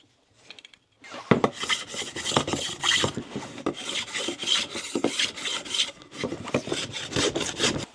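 A 1.25-inch wood chisel is rubbed back and forth on a sharpening stone, a steady rasping scrape in repeated strokes after a brief quiet start, close and fairly loud with no voices.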